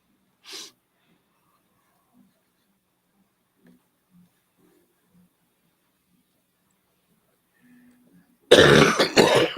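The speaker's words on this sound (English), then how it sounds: "I keep coughing and hacking." A man coughs and clears his throat during a casual livestream chat, one short burst early on, near-silence for several seconds, then a loud, harsh run of hacking close to the microphone.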